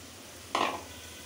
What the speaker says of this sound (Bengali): মাছগুলি দিয়ে একসাথে আমি কষাবো